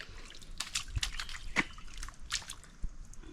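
A freshly caught mud crab is rinsed in water, making faint scattered drips, trickles and small splashes with brief sloshing, close by and soft.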